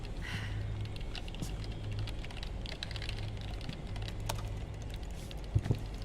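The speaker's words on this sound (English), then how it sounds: "Casually typing on multiple keyboards" Several computer keyboards clatter at once in a Metal Gear Solid 4: Guns of the Patriots cutscene, a quiet, continuous patter of keystrokes with a low hum underneath.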